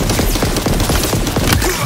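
Rapid gunfire from a gun in Halo Infinite, a dense, loud burst of closely packed shots firing continuously for the whole stretch with no pauses.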